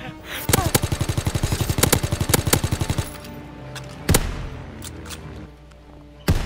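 Rapid gunfire from the game Call of Duty: WWII: a long fast run of loud, evenly spaced shots, then two heavy single blasts with lingering echo, one midway and one near the end, up close with no talk.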